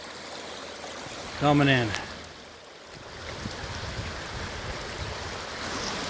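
Water rushes steadily through a small feeder creek on an Illinois farm, a constant close wash of flowing sound, with someone briefly speaking near the start.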